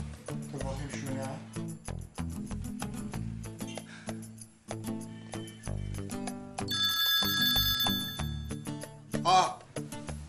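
A mobile phone left behind rings with a repeating electronic ringtone over a background of music, while a voice talks over it at a close, moderate level.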